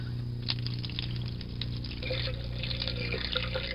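Warm water runs from a sink tap in a steady splashing stream over a low constant hum, with small gurgles and drips rising toward the end.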